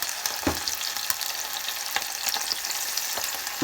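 Chicken tails deep-fry in hot oil with a continuous crackling bubble and scattered louder pops, close and steady throughout.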